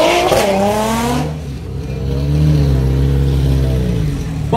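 A red race car at a street racing event roars past up close. The engine note rises and falls loudly with a tire squeal, then settles into a sustained, droning rev.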